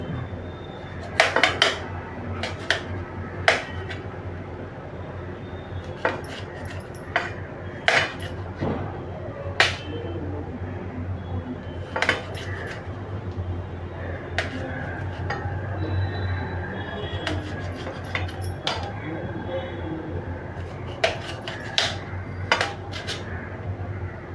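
A knife cuts a lemon crosswise for a quick sweet and sour lemon pickle, making scattered sharp clacks and clinks against a hard surface, close up and irregular for about twenty seconds.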